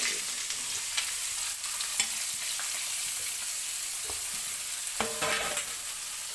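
Mustard seeds fry in hot oil with a close, steady sizzle broken by scattered sharp pops and a few clinks of stirring, with no voices.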